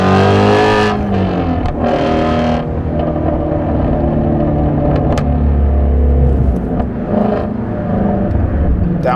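A 2017 Shelby GT350 revs loudly from inside the car, its engine blipping and roaring through downshifts with brief throttle lifts, a dense, close, continuous drone dominating throughout.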